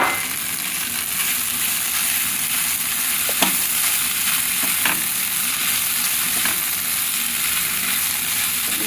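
Butter sizzles and fries steadily in a hot pan for chicken sisig with lemon, a dense close crackle running the whole time with a few brief clinks of a utensil and no voices.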